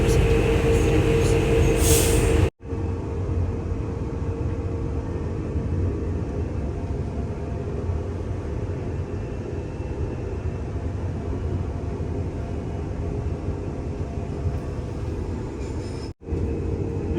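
Queensland Rail commuter train running in Brisbane, a continuous loud rumble with rattling and a steady low drone, heard from inside the carriage, with two abrupt dropouts in the sound.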